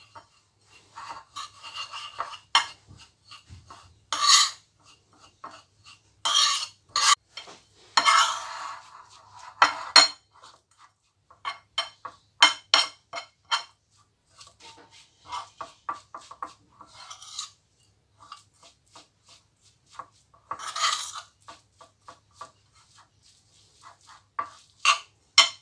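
An almond filling for chamia being mixed in a bowl produces intermittent scraping and clinking bursts of a utensil against the bowl, close and separated by short pauses.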